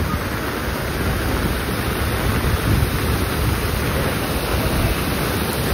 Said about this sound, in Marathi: अजून वाढतात पाऊस पण लागतो जोरदार त्यामुळे अजून वाढता पाणी.